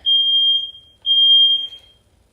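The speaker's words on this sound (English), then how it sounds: "sorry for my smoke alarms." Two long, shrill electronic beeps from a smoke alarm, about a second each, separated by a brief gap in an otherwise quiet room.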